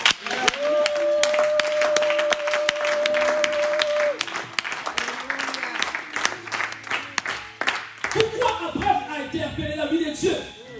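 A church congregation applauds steadily during a service, dense clapping from many hands with some cheering, a held musical tone underneath and a voice speaking over the crowd toward the end.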